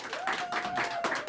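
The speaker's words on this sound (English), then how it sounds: "You can applaud." A brief burst of audience applause for two congressional candidates at a Denver candidate forum, moderate and uneven, lasting just over a second.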